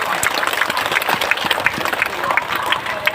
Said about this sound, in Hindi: जोरदार ताली बजाइए, जोरदार ताली बजाइए